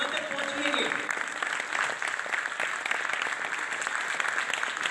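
Sustained, dense applause from an audience fills a quiz competition final, steady and loud throughout with no breaks.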